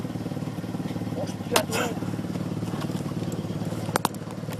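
A motorcycle engine idles and putters steadily in the background with a low, pulsing rumble, while people talk and exclaim nearby and a couple of brief clattering knocks cut through.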